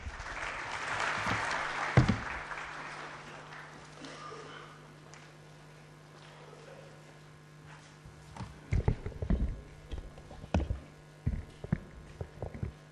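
Audience applause greets the Chief Minister of Sindh, Syed Murad Ali Shah, at an award ceremony for a water project. The clapping is dense and fairly loud for about two seconds, then fades into quiet, followed by scattered knocks and thumps.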